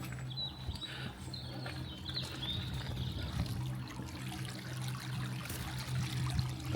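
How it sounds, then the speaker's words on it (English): A river flows past in a steady, moderately loud wash of water, with a few bird chirps above it and no talking. "I just thought I'd have a quick look at the river flying past and show you guys around."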